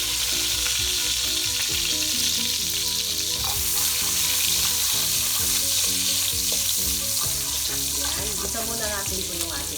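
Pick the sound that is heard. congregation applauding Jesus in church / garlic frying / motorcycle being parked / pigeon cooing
garlic frying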